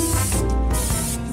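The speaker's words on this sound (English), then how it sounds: "I'm gonna go ahead and spray the casserole dish." Cooking spray hisses in one short, steady burst as it coats a casserole dish being readied for lasagna, close and alone.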